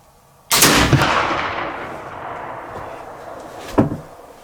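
A black powder gun loaded with 60 grains of Goex 3F fires once: a single loud, sharp blast with a long rolling decay, followed a few seconds later by a fainter second crack.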